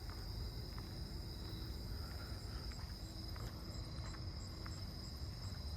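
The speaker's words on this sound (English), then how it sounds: "it's not cold enough for the round tip coneheads either because I hear one" A round-tipped conehead katydid calls at night in a neighbourhood in cool late-season weather, a faint high continuous buzz under a steady insect chorus with scattered soft ticks.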